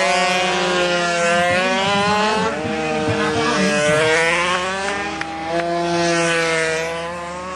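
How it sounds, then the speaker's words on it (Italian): Racing motorcycle at an amateur circuit race making an odd engine noise: a loud, sustained harmonic whine that rises and dips in pitch over several seconds, with other bikes droning near and far. "fa un rumore strano alla moto di Riccardo"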